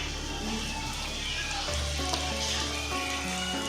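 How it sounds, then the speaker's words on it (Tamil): Green chilies and curry leaves sautéing in a pan of oil for a potato kurma, a loud continuous sizzle that stays close and constant, with faint background tones. "இதையும் சேர்த்து நல்லா வதக்கிக்கங்க"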